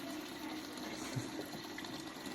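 Water flows steadily as the household supply comes on, a constant rushing gush like a tap or pipe filling a container, close by and fairly quiet, with no voices.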